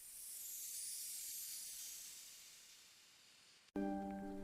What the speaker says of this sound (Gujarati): પાણી ગરમ થાય તો વરાળ બને છે.